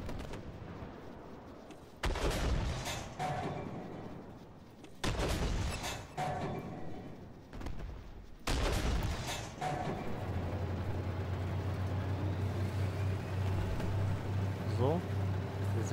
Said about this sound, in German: Sehen schon, da kommen die ersten Schüsse.